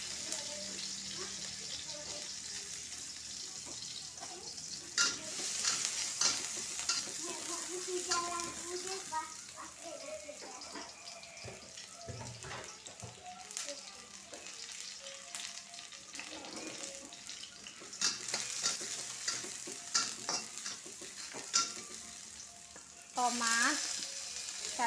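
Garlic and shallots frying in oil as seasoning for instant noodles: a steady close sizzle with stirring scrapes throughout, a few brief splashes, and a high squeal near the end.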